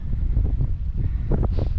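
Strong wind on the coast at St Bees Head buffets the microphone with loud, gusty low rumbling and uneven blasts.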